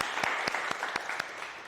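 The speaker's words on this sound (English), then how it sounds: "let's give a big round of applause for the students who presented really well" Applause breaks out for high school students who presented a wildfire simulator, a soft, fairly small crowd clapping with a few distinct louder claps standing out, heard briefly and at some distance.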